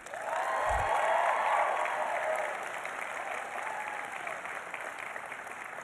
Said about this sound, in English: Now, I ask the graduates to applaud all of those who supported you on this journey.